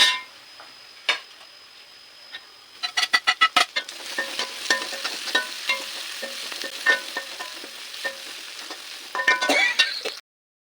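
Two tablespoons of crushed garlic and ginger frying with golden-browned onions in a pan for kadai chicken: a rapid run of sharp spoon taps, then a soft, steady sizzle with intermittent stirring scrapes, close by and without speech.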